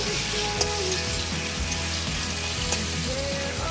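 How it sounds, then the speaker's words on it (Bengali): Food sizzling and frying in a home kitchen as a mother cooks, a steady close hiss with faint clinks of stirring and a few brief tones drifting underneath. "এই যে আমাদের রান্না শুরু হয়ে গেছে, মা রান্না করছে"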